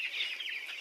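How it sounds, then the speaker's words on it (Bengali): Chickens at a poultry farm of about 500 birds, 18 days old, heard as brief, faint, high chirping calls over less than a second, with no talk. "এখানে প্রায় 500টি মুরগি রয়েছে।"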